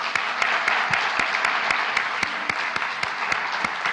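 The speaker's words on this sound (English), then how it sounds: "Let's give another round of applause to our panel." Audience applause for a panel at a women-in-science symposium, a thick, even wash of many hands clapping throughout, with a few sharper single claps standing out at a regular pace near the microphone.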